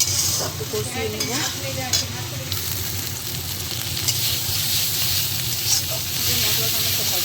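Ginger-garlic paste and spices stirred and sautéed in a pan, a steady close sizzle with scraping stirs throughout, plus faint background voices and tonal sounds.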